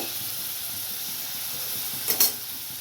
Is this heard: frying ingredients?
yes